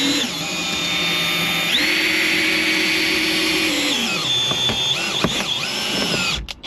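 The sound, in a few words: drill drilling into windshield urethane for cut-out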